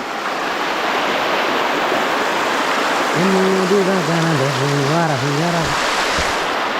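Loud, constant rushing of cold stream water in a rainforest at Nedumkayam, Nilambur, fills the scene, with a person's voice briefly heard over it partway through.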